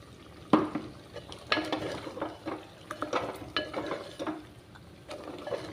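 A spoon stirs ground gongura paste into frying chicken curry with repeated scraping, clinking strokes in an uneven rhythm over a soft, quiet sizzle.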